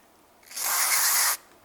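Cleaner sprayed from an aerosol can onto a Toyota Prius MAF sensor in a 2002 to 2009 model, one steady hiss lasting about a second, close and fairly loud.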